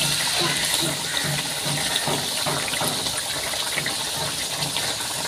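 Water is poured into a pan while small pabda fish cook in mustard sauce, making a loud, continuous rushing splash that stays steady and close throughout.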